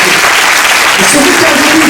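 Church congregation applauding during a service, loud close clapping from many hands blended with voices, continuing through the short stretch.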